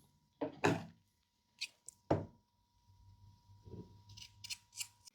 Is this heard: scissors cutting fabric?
yes